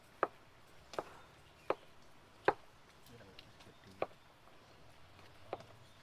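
Knife chopping shallots, garlic and chillies for sambel tumpang, a few sharp separate knocks on the board at an uneven, unhurried pace, close by and moderately loud.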